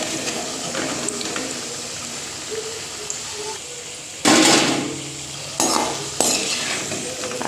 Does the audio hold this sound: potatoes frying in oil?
yes